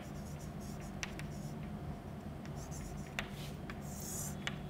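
Marker or chalk writing on a board during a biology lesson, a faint scratchy squeak of several short strokes in a quiet room, with no talking.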